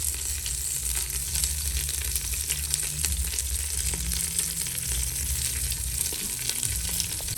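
Curry leaves and crushed pepper frying in hot oil in a pan, a dense continuous sizzle with crackling that stays steady and close throughout, no voices.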